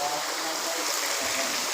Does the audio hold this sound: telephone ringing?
no